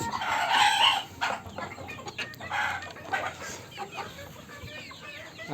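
Three-month-old Light Brahma chickens cluck busily alongside Silkie chicks, with a rooster's crow rising near the start and scattered chirps and clucks filling the rest, no voices over them.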